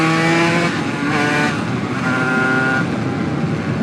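A new Langen two-stroke motorbike accelerates hard around 4,000 to 5,000 rpm, its loud, buzzing engine note and induction noise climbing steadily in pitch through the run, heard close up with continuous rushing wind and no talking.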